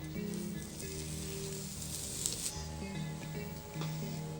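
Buckwheat galette cooking in clarified butter in a hot pan, a soft steady sizzle with faint crackle, a low hum beneath and a brief louder spatter near the middle.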